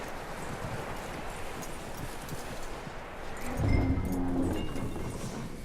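Horse hooves clip-clop at a walking pace in Red Dead Redemption 2, soft and regular over a light outdoor wind, growing a little louder and closer partway through.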